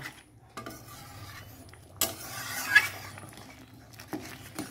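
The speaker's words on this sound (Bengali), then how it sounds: "একটু ঘেটে নেব, আর একটু ভালো করার জন্য একটু ঘেটে নিলাম।" Bitter gourd curry being stirred in a pot, with soft scraping and rubbing strokes of a spoon against the metal, punctuated by a few sharper clinks at irregular intervals.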